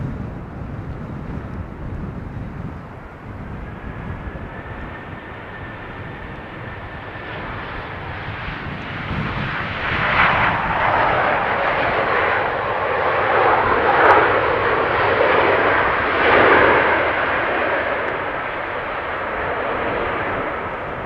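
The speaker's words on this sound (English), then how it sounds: "landing airplane lands towards the west" An airliner lands westward at Amsterdam Schiphol on runway 27 with a slight crosswind. A distant, rising whine sits over steady rumble, then the engine roar swells louder in waves as the jet passes close and tapers off.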